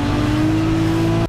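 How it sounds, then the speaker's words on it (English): A drifting car at a spring event at the Nürburgring, a loud sustained engine note with a steady strained tone, close and continuous before cutting off abruptly. "Drifting."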